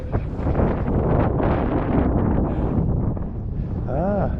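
Strong wind buffets the microphone on an open hilltop during an e-bike ride, a loud continuous roar with gusty surges, while someone talks over it.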